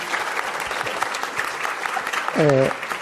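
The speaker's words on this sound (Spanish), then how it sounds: "Agradecemos la participación de nuestros ponentes, a quien le brindamos un fuerte aplauso, por favor." Applause for the speakers at an open access conference session, soft, even clapping from a seated audience at a moderate distance, with a brief voice cutting in near the end.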